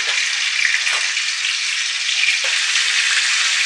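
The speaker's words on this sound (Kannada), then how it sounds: "ಇವಾಗ ಇದಕ್ಕೆ ಒಂದು ಟೇಬಲ್ ಸ್ಪೂನಷ್ಟು ಶುಂಠಿ ಬೆಳ್ಳುಳ್ಳಿ ಪೇಸ್ಟನ್ನು ಹಾಕಬೇಕು" Ginger garlic paste frying in hot coconut oil gives a loud, continuous crackling sizzle with a few brief stirring scrapes, no voices.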